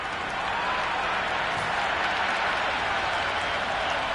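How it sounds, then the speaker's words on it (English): A large crowd at a cricket match in the video game Cricket 26 applauds steadily, a dense wash of clapping and cheering that holds at the same level throughout. "The crowd are really getting quite raucous."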